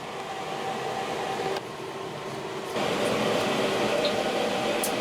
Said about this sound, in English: Now the machine will recover the refrigerant that's inside those hoses